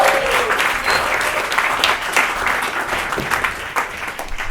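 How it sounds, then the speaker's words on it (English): An audience at a stand-up comedy show applauds comedian Marc Ragovin, dense steady clapping that fills the room, loud and sustained with a few scattered cheers. "Please clap it up for Marc Ragovin."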